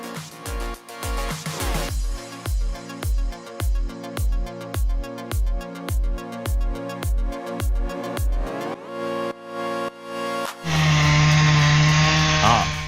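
A chainsaw cutting oak drones in loud, repeated surges as it bites into the wood, each pass rising and falling in a steady rhythm, then a harsher sustained buzz near the end.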